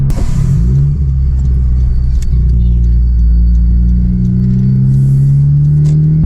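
A Honda Civic Type R (FK8) engine with a flex fuel kit and a running problem rumbles loudly close by, its pitch rising as the revs climb and then holding steady at a high, sustained drone.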